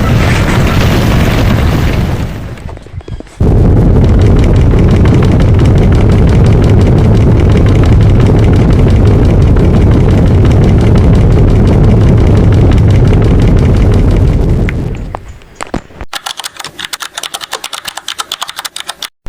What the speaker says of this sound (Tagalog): Nakakabinging ingay, ang dami nang nasira.